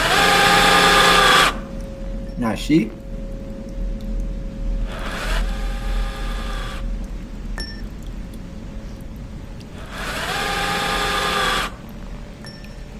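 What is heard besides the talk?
battery-powered drill driver in a horror video game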